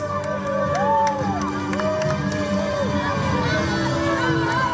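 Steady crowd cheering and applause at a beach volleyball award ceremony on the Pro Beach Tour in Mersin, loud and sustained, with tonal sounds layered over the noise.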